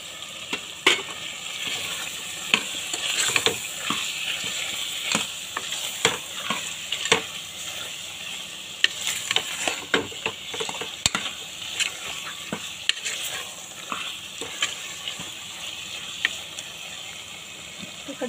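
Boiled taro pieces fry and sizzle in a pan for tomato curry, with a steady hiss under repeated scraping strokes of a spoon stirring close by.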